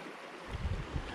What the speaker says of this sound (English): Wow, she's a big river